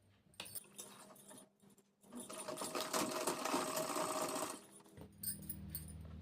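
A sewing machine stitches a strip along the neckline of a halter neck maxi dress, a close, steady mechanical whir of a few seconds between lighter clicks of handling the fabric.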